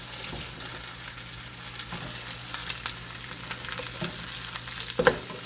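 Hamburger steaks fry in a pan after being flipped, giving a steady, fairly loud sizzle and crackle with a few soft spatula scrapes near the end and no voices.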